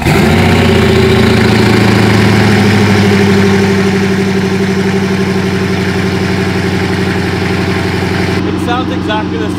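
Bugatti Veyron W16 engine, flood-damaged and under rebuild, fires up and settles into a steady, loud, droning idle with layered low harmonics that hold unchanged throughout.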